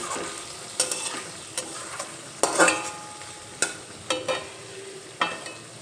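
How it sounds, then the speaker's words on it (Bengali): A lid lifted off a pan of potatoes cooking with spices for cholar dal, then a spatula scrapes and stirs in a series of separate strokes over a soft background sizzle. "মাঝে একবার ঢাকনা তুলে একটু নেড়ে চেড়ে নিলাম"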